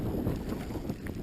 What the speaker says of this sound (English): And it's very windy, you know.